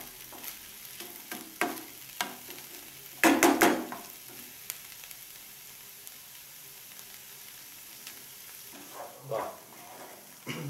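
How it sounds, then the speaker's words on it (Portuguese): Palm hearts and onion fry in a pan, with faint sizzling and a few scraping stirs, one louder clatter of stirring partway through and another near the end. "Misturada aqui, deixa fritar um pouquinho."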